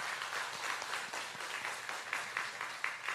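Church congregation applauding at a Korean worship service, steady quiet clapping from a crowd with faint voices underneath.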